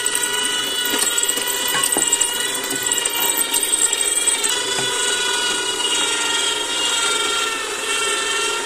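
Cecotec Juice Live Pro 1500 juicer pressing a whole orange, giving a loud, steady mechanical grinding and whirring drone with crackling pulp, close and continuous without any voices.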